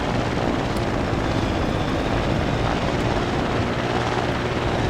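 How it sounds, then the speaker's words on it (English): Rotor noise from a helicopter-like craft built in Trailmakers, flying with propellers that tilt forward and back. It gives a steady, loud, dense whirring drone that holds unchanged throughout with no speech. "it's just like a chopper, you tilt forward, propellers moving forward, tilt back"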